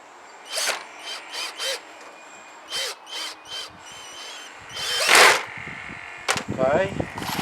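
Bursts from a power drill driving screws while assembling a pumpkin-head figure, several short whirring pulses in a row, then a longer, louder run and a few quick final bursts, close by.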